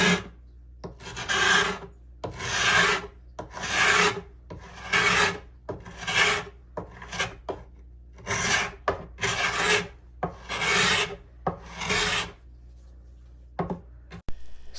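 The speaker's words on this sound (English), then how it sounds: "Scraping the finish proved to be more effective than sanding the finish off of this table." A scraper is drawn repeatedly across a wooden hexagon side table to strip its old finish, each pass a close, dry rasping stroke in a steady rhythm of about a dozen scrapes with brief pauses between.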